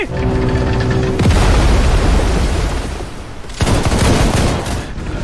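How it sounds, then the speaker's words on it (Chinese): Loud volleys of musket fire from a ship's musketeers crack out in bursts during a naval battle, the second ragged barrage starting midway, with heavy booming cannon rumble filling the gaps. "火枪队自由射击"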